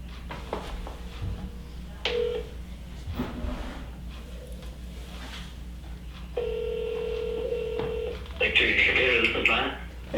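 Telephone tones and beeps sound as a call is transferred from a cell phone to a desk phone, with steady held tones and a burst of ringing near the end, mixed with someone talking.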